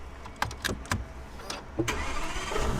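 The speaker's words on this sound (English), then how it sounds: "and that starts up the car." An Aston Martin Lagonda Taraf saloon starting up after the key is pushed in: a few sharp clicks and a short crank, then the engine catches and settles into a steady, close idle.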